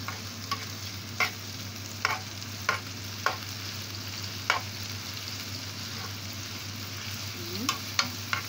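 Pastrami fries in melted ghee with a steady low sizzle, broken by repeated soft clicks of stirring at a regular pace, close and moderately quiet.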